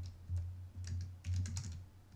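Soft, quiet keystrokes, including a press of the Tab key, tapping on a computer keyboard in an irregular rhythm over a low electrical hum.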